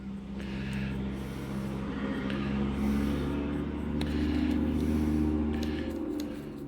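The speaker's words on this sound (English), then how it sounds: "sometimes you will hear cars in the background" Traffic passes outside an open window on a warm summer day, a steady low rumble of cars with a swell near the middle, heard faintly and continuously in the background of a quiet room.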